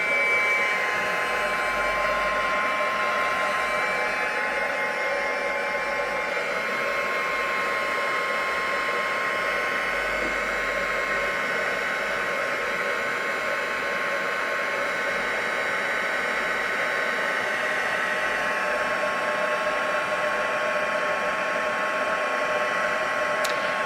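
A heat tool for embossing runs continuously at close range, a steady loud blowing whoosh like a hair dryer that holds unchanged throughout with no talking.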